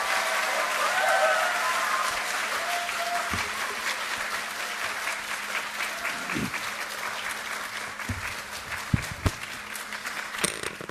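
An audience gives a long round of applause to welcome politician Jeong Cheong-rae at a lecture, steady dense clapping that lasts throughout and slowly thins, with a few louder individual claps near the end.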